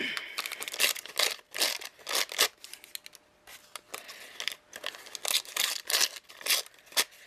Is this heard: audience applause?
no